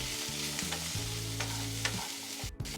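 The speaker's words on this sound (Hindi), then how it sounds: "अब मैं इसमें ये कैप्सिकम और ऑनियन कटी हुई सबको ऐड कर दूंगी। और 2 से 3 मिनट हम इसे हल्का भूनेंगे।" Chopped capsicum and onion sauté in a pan with ginger-garlic paste for a restaurant-style Chinese baby corn dish, a steady close sizzle broken by occasional stirring scrapes, with no talking.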